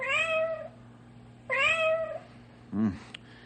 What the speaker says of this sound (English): I'd say the cat is right here in between the wall.